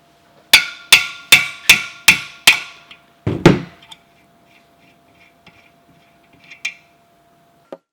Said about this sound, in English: we're just going to tap this on the end with the hammer to remove the bearing